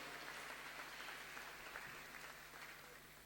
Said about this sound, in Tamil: நம்முடைய பலத்த கரகோஷத்தை அவர்களுக்கு நாம் தெரியப்படுத்தலாம்